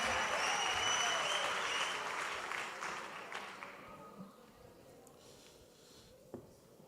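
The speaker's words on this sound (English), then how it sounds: "Let's give him a big round of applause," Audience applause at a gathering, starting loud and full, then gradually thinning and fading over several seconds into scattered claps and quiet room noise.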